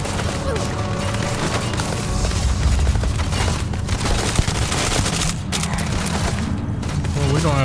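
Grenade blast and sustained gunfire during a firefight in the video game Starfield, a loud continuous barrage of rapid shots and booms filling the whole stretch, with a voice calling out over the din.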